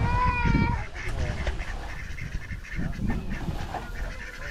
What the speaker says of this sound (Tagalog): Yung mga pato.